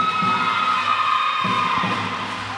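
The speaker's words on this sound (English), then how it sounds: "The crowd have upped their ante here, urging the Singapore A side to come up with an intercept" Crowd cheering at an international netball match between Singapore A and Isle of Man, a loud sustained wash of voices and high shrill shouts that fades slightly toward the end.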